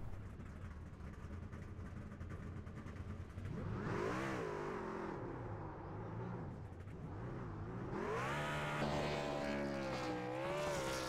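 Racing trucks at a Homestead truck series event rev hard during post-race burnouts, with loud engine whines rising and falling in repeated swells, mixed with a steady background roar.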